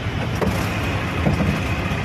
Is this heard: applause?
no